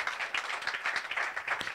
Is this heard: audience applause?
yes